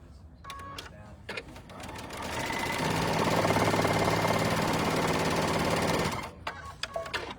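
A sewing machine runs steadily for about three seconds, stitching quilt block pieces, with softer clicks and handling noises before and after.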